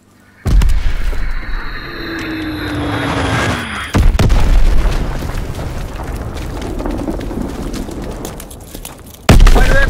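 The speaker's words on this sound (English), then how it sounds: "Dropping Azon bomb." Azon bombs explode in Call of Duty WWII, with three heavy blasts spread over several seconds, each followed by a long rolling rumble and debris noise.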